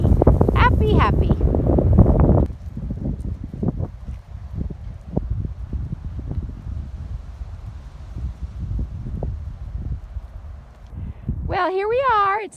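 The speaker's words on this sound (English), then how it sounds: "It's windy, you can tell." Wind blowing outdoors on a snowy farm in November, gusting across the microphone in rumbling bursts, with people talking over it and a dog's whining bark at the end.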